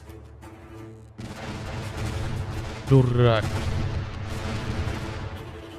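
Ship's cannon fire in the naval video game Corsairs: City of Lost Ships, a single booming shot in the middle over steady game ambience, with someone speaking briefly.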